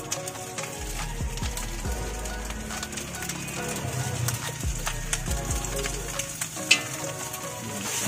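Steady sizzling and scraping of fried rice being stir-fried in a hot pan, with clanking utensils and a busy background hum.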